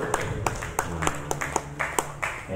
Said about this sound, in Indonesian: Tepuk tangan untuk tim dulu.